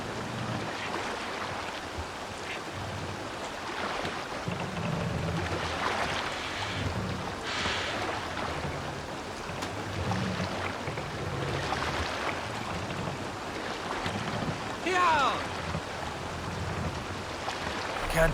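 Longship rowing at sea in Assassin's Creed Valhalla: a steady wash of water and wind with rhythmic surges of oar strokes roughly every couple of seconds, continuous and moderately loud throughout, no talking.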